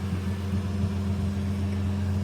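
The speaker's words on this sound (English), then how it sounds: "It's a good sounding old engine." An old truck's 300 engine idles steadily and close by, a low, even rumble with no talking.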